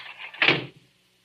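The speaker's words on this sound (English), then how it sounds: "Close the door, quick." A door closed in a radio drama, a brief swishing swing ending in a soft thud, then silence.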